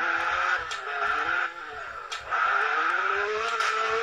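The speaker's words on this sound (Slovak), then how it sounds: "Toto je zvuk, neviem čoho, motorky" A motorcycle engine in the Roblox game Brookhaven drones loudly and steadily, dipping briefly before surging back, with no talking over it.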